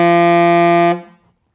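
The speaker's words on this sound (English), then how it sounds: "If I push it too far forward, it's not going to sound very good. It's going to sound very much like a honking saxophone." A tenor saxophone with the mouthpiece pushed too far forward holds a single loud, buzzy, honking note for about a second, then cuts off abruptly with a short fading tail.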